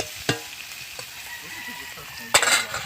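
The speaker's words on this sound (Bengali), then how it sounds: "এবার মাছটা ভালো করে ভেজে নেব আমি" Fish fries in a pan with a constant hiss of oil, punctuated by a few sharp utensil taps and a louder burst of sizzling near the end.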